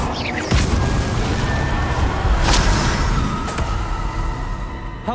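Confringo fire spell explosions in Hogwarts Legacy, a few loud booming blasts and crackling bursts over a dense rumbling battle bed, with no voices.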